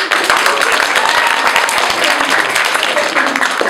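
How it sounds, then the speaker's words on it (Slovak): Loud, dense applause from an audience at a stage show, crowd clapping steadily and close for the whole few seconds without pause. "Prosím, veľký potlesk pre batériu"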